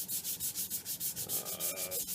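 Wet sanding a redbud wood vase with 320-grit paper and naphtha produces quick rhythmic rubbing strokes, about ten soft swishes in a steady back-and-forth cadence, close and fairly quiet with no talking.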